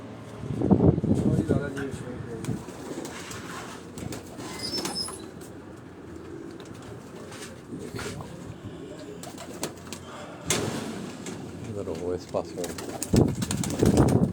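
Pigeons coo softly with occasional wing flaps, while someone talks on and off nearby.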